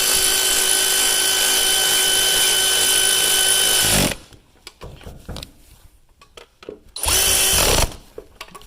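Power tool driving bolts on a 2010 Chevy Aveo during serpentine belt work, a loud steady whirring run of about four seconds, then quiet handling clatter, then a second shorter burst.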